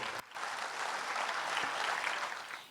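An audience applauding a pastor at a Nurses Day commemoration event, a steady wash of many hands clapping that rises quickly after a brief opening click and holds at moderate loudness.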